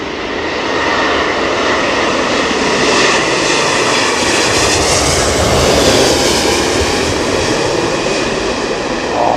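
Jet engines of a Boeing 777-200 roaring during takeoff at Heathrow in stormy weather, a loud sustained broadband rumble and whine holding steady throughout with no talk.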